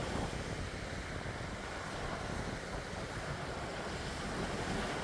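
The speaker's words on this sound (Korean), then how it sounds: "바람이 진짜 시원하게 불어요." Wind blows steadily across a seaside at sunset, a broad rushing roar with buffeting against the microphone and a wash like distant surf underneath, constant and fairly loud with no voices.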